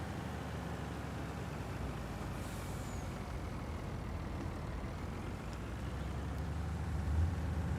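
A semi-truck driving in a farming simulation game, on a Millennial Farmer map, gives a faint, steady low engine rumble with a slight rise near the end.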